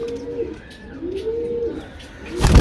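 A pigeon from a breeding pair for sale gives soft, low coos close by, with a sudden loud rustle or knock at the end.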